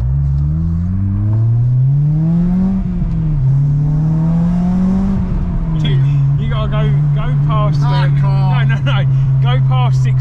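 Honda Civic EP3 engine climbing in revs into VTEC, a loud steady drone that rises, dips, and swells again before holding a high pitch, with people talking over it throughout.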